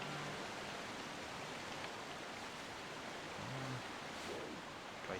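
Steady broadband rushing of a waterfall in The Legend of Zelda: The Wind Waker, a constant even wash of falling water throughout, with faint brief tonal blips near the end.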